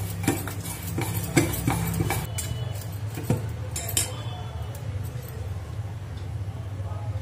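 Boiled potato, yogurt and singhara (water chestnut) flour being mixed in a bowl with a spoon, giving repeated close clinks and scrapes against the bowl in an uneven rhythm over a low steady background hum.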